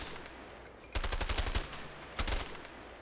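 Guns in the A Way Out video game fire in two rapid automatic bursts, each a quick string of sharp, punchy shots, the first about half a second long and the second shorter, over a quiet hiss.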